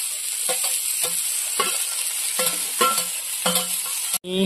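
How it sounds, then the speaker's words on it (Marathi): Squeezed monsoon wild greens (kurdu) are tossed in a pan with onion, frying with a steady hiss while a utensil stirs and scrapes in repeated rhythmic strokes, close and alone without talk. "पिळून घेतलेली भाजी टाकून घ्यायची"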